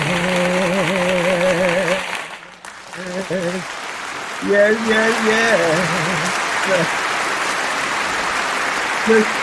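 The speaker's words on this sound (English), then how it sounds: "Let's give a round of applause." An audience applauds in a steady wash of clapping while a voice speaks and exclaims over it in short bursts.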